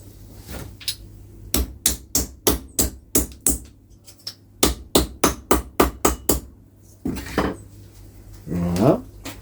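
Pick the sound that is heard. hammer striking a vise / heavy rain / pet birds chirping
hammer striking a vise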